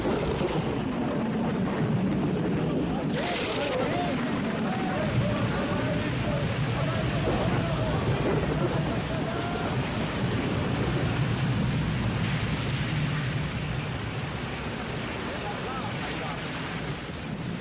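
A thunderstorm rages over the Sea of Galilee: heavy rain and gusting wind form a constant loud roar, with low thunder rumbling throughout.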